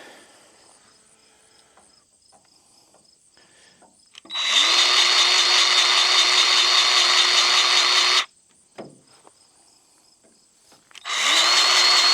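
A cordless grease gun whirs in two bursts while greasing fittings on farm equipment, one about four seconds long and a shorter one at the end, with quiet tapping and handling noises between.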